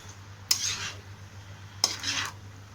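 A utensil stirs chicken fried rice in a pan, with two sharp scraping clinks against the metal, each followed by a brief rustle of rice, over a low steady hum.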